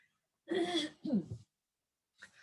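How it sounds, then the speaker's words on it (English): Someone clears their throat close by in two rough, gravelly bursts, followed by a brief quiet sound after a pause. "Excuse me, I'm going to clear my throat here."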